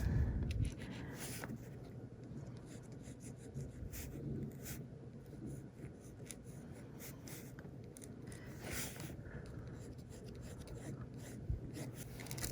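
Ballpoint pen sketching an eye on paper, a soft continuous scratching and rubbing of the tip with short strokes and occasional louder scrapes, close and quiet.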